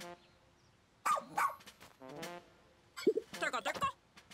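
Cartoonish dog barks from the rescue pup Oatchi in the video game Pikmin 4, a few short yaps and a rising bark in two bursts among game music and effects.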